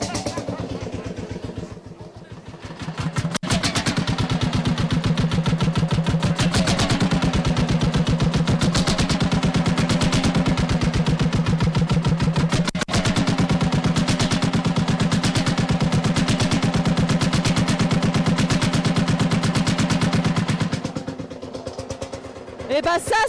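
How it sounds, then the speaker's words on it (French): An old engine runs at a traditional crafts fair in Montfort-le-Gesnois, France, with a loud, steady, rapidly pulsing drone that rises after a start-up and holds for most of the stretch before easing off. Voices are faintly mixed in. "ça, c'est du bruit de moteur"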